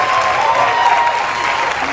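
A studio audience at a Saturday Night Live Weekend Update sketch gives a steady wash of clapping and crowd noise through the whole moment, heard at a distance with a voice faintly over it.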